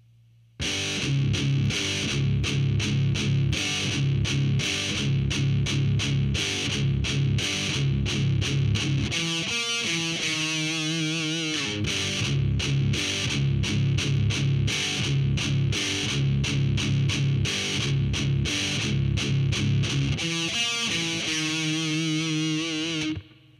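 Heavily distorted electric guitar plays a slow heavy metal riff, repeated palm-muted chugs with sustained notes and a bending, wavering phrase midway, looping twice, loud and alone.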